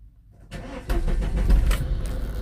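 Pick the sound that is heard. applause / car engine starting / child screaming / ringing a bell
car engine starting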